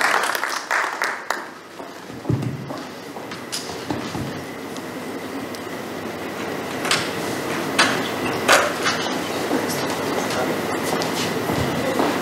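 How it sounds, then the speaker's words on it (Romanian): Audience applause for a singer at an awards ceremony for a district personalities contest, steady scattered clapping from a moderately distant crowd filling the room throughout. "Aplaudăm mai cu inima Andrei Oboroceanu."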